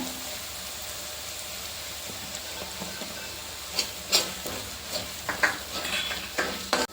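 Kashmiri chili powder being stirred into sautéed onions in a pan, with a steady soft sizzle and scraping spoon strokes that grow louder and more frequent toward the end, no talking.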